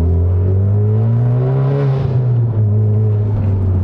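A 2022 Honda Civic Type R FK8 pulls hard in second gear on a city road, its engine note a loud, rising drone heard from inside the cabin that swells and then eases.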